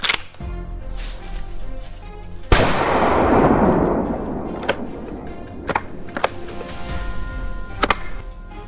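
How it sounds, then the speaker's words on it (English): During a wild boar hunt, a sharp close gunshot cracks out and rolls into a long echoing roar, followed by a few more scattered distant shots. "The echo of gunfire shook the area, scattering the herd in all directions."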